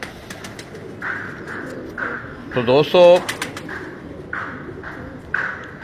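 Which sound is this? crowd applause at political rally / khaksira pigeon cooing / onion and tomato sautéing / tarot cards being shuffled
khaksira pigeon cooing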